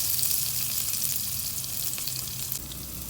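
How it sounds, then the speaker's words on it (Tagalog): Garlic and onion sauté in a hot pan for pork sinigang, giving a steady, close sizzle that carries on without a break for the whole stretch, with no voices. "ibisan natin yung bawang at sibuyas"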